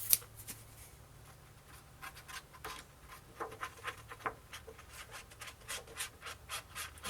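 Soft, uneven rubbing and brushing strokes, close and fairly quiet, repeating in short bursts as glue is spread across paper for a scrapbook album.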